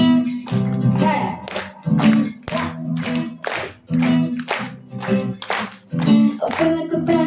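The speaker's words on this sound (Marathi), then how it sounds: "टाळ्या." An audience claps in a steady rhythm along with a sung song at an Ambedkar Jayanti stage event, the regular claps sounding close and loud beneath the voice.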